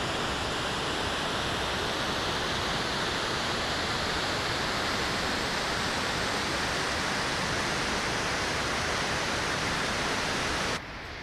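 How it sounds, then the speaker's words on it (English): Rushing water of a mountain stream near a wild camp on Coll de Gats, a loud, steady broadband roar that continues unbroken and alone before cutting off abruptly at the very end. "the noise of that water in the background is spectacular"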